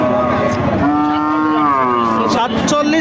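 A cow at a cattle market gives one long, loud moo close by. The call is drawn out and wavering, with faint market noise behind it.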